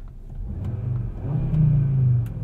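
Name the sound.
sports car engine revving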